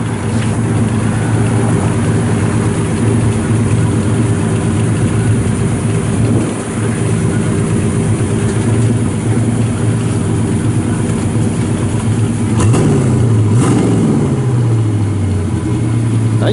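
A 1965 Pontiac GTO with a rebuilt engine and dual exhaust idles steadily and fairly quietly, a constant low rumble that continues alone throughout, with a brief rev-like swell near the end.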